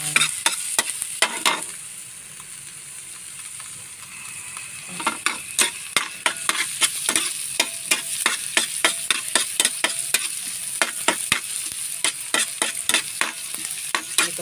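Onion and garlic sautéing in a pan for sarciadong galunggong, a steady sizzle under a rapid, repeated scrape of a utensil stirring, close and continuous with a short quieter stretch early on.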